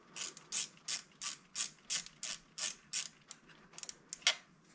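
A ratchet wrench with a long socket turning a spark plug on a Peugeot/Citroën 1.4 16v engine, giving a close, regular series of about a dozen sharp clicking bursts alone.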